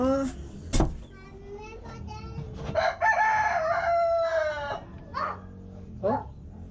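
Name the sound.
chicken clucking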